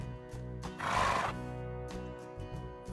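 A horse in the medieval game Medieval Dynasty gives one loud neigh, a bright whinny about a second long, set between soft hoof clip-clops and thuds, with no talk over it.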